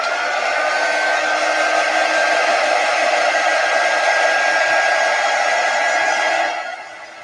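A hair dryer runs steadily at close range, drying a freshly made stencil, a constant loud whoosh that holds level for about six seconds before easing off at the end.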